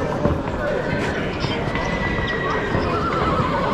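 Horses neigh and hooves clop amid a busy horse market in Uzbekistan, with people talking nearby over a dense crowd hubbub.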